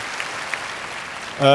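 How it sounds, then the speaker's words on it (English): Audience applause in the hall at the Oscars ceremony, a soft, distant, even patter of many hands, cut off at the end as a voice comes in. "please hold your applause until it's for me"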